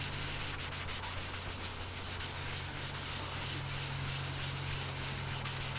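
Rubbing compound cutting back lacquer on Honda VFR750 RC36 parts gives a steady, close abrasive rubbing hiss, continuous and even, with no talking.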